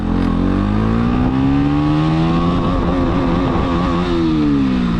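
A KTM Duke 125 motorcycle accelerates hard in first gear, its single-cylinder engine revving up steadily from close range, the pitch climbing, then dipping once and rising again, loud and alone without talk.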